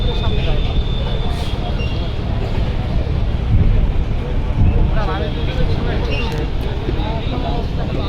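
The passenger launch M Khan 7 approaches the pontoon at the Sadarghat launch terminal, a loud, steady low engine rumble with someone talking over it throughout.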